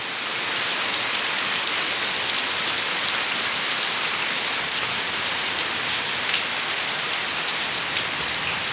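Heavy rain pours steadily on a market in Monohorganj, a dense, unbroken hiss that stays loud and even throughout, with no voices heard.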